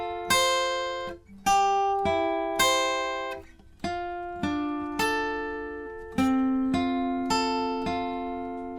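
A full line of a riff on guitar without a capo, played as about fourteen steadily picked single notes in an even arpeggio rhythm. Each note rings and overlaps the next, close and clear, with nobody talking.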